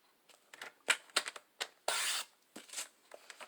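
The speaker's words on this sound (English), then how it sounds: "we want to do corner to corner on our trimmer, and we just want to cut that in half" A paper trimmer slices a sheet of scrapbook paper corner to corner, with a few soft clicks and taps followed by one longer scraping cut, then more small handling sounds, close and quiet.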